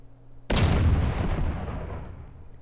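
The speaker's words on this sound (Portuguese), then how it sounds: "Vamos pra explosão da granada agora." A modded grenade explosion in GTA San Andreas bursts out as one loud, sudden boom, then rumbles and slowly decays over about two seconds with no talk.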